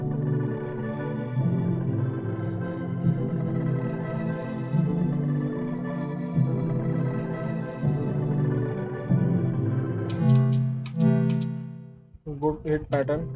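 Chords from the LABS plugin in FL Studio form a soft, sustained, droning progression for a hyperpop beat; it plays steadily, then shifts into brief, choppy, plucky stabs near the end.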